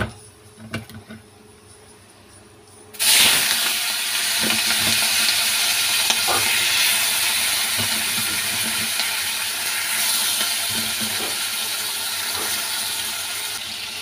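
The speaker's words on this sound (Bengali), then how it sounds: "কড়ার মধ্যে তেল দিয়ে দিয়েছি দেখো, আর এই যে চিংড়ি মাছটা, চলো মাছটা দিয়ে দেবো।" Shrimp go into hot oil in a wok: after about three seconds of near quiet with light clinks, a sudden loud sizzle bursts out and keeps crackling steadily up close, with no talking.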